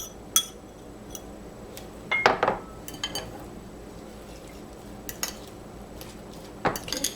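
Cabbage mixed into a chicharron bread batter in a bowl, heard as a few scattered clinks and a brief run of utensil-on-bowl scraping and tapping, close but fairly quiet over a low background hum.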